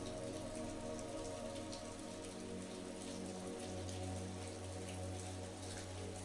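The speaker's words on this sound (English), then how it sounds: "As the rain continued to patter against the windows" Soft rain patters steadily against windows, a quiet continuous drizzle beneath a low, faint background hum.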